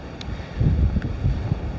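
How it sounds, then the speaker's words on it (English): Seaside wind buffeting a microphone at a coastal spot, a low rumbling gusty roar that swells and dips over a couple of seconds, with no talk. "the wind was just causing me no end of problems because of the height"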